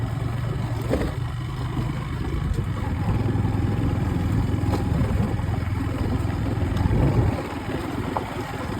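A motorcycle engine runs steadily on a forest outing, with a fairly loud low rumble that holds for about seven seconds, then drops off slightly toward the end.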